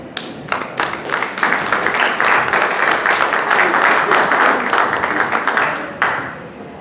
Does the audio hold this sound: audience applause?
yes